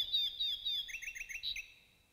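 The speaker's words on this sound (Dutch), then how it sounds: "wat kunnen die vogeltjes mooi zingen?" Small birds sing in a forest, a bright series of high chirps and trills, with repeated descending whistles followed by quick rising twitters, clear and moderately near with no voices.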